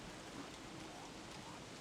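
Steady rain pours down in the video game Don't Starve in a constant soft hiss, a quiet uniform wash of falling water with no break.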